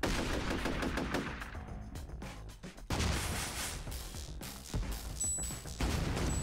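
The fireworks weapon fires in the video game Shellshock Live, giving a loud, dense barrage of rapid crackling blasts and bursts that lasts several seconds with brief dips between volleys, and no talking.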